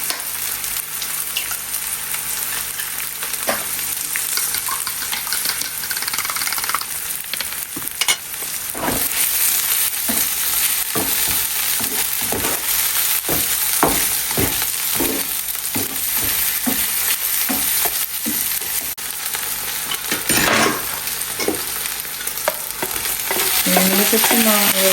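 Russian sausage sizzles and spits steadily in a hot frying pan, with a loud continuous crackle broken by repeated sharp scrapes and knocks of a utensil stirring the pieces around.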